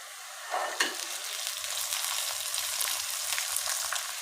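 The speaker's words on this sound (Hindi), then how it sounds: "मैं प्याज के साथ ही मटर फ्राई कर लेती हूँ" Green peas frying together with onions in a pan, a soft steady sizzle and crackle with a few stirring scrapes and light clinks, fairly quiet and alone.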